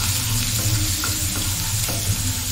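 Finely crushed garlic frying in hot oil in a pan gives a steady, close sizzle that runs unbroken with light crackling and no voices.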